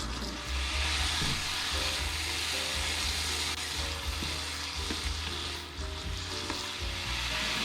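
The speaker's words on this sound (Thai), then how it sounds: "เสร็จแล้วก็เอาข้าวสารนะครับ ที่เราซาวไว้เรียบร้อยแล้วนะครับ ลงไปผัดต่อเลยครับ" Washed rice is stir-fried in hot oil in a pan, producing a loud continuous sizzle with scraping and stirring clatter close up, no talking.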